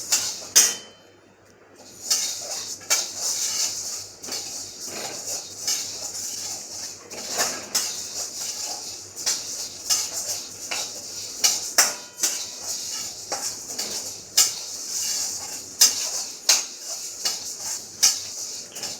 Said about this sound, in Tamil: இப்படி வறுத்துட்டே இருக்கணும் இல்லை?